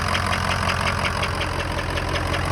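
A 2003 Ford F-250 with the 6.0 diesel idles steadily and up close, a rapid, regular knock ticking through the low engine rumble, with no talk.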